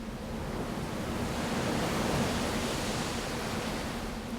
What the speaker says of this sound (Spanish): Abajo se escuchaba cómo el mar pegaba contra las piedras